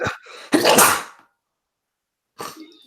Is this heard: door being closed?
no